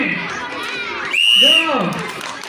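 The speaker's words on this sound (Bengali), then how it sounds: "সবাই একটু হাততালি নিয়ে উৎসাহ দেবেন।" A crowd of children and adults cheering and shouting loudly at a children's balance race held outdoors, with excited voices, a high shout swelling in the middle and clapping mixed throughout.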